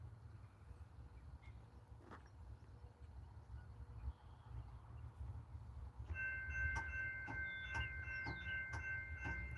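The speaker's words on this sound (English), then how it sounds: "Looks like we got 2 engines up front. Looks like a coal train." Coal train led by two locomotives rolling past, a low steady rumble that swells as it nears, joined by a ringing tonal chime and rhythmic clicking wheel beats in the second half.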